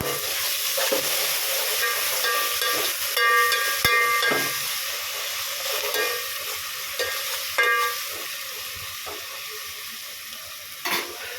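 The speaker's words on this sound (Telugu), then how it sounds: "తర్వాత వెంటనే కొత్తిమీర వేసి కలుపుకోవాలి" A spoon stirs bottle gourd sambar with freshly added coriander and curry leaves in a pot, producing steady scraping and a soft sizzle under a constant hiss, with no talking.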